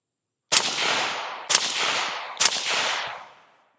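Three semi-automatic shots from an ELF Conley firearm, each a loud sharp crack about a second apart with a long ringing echo after it, and no talk.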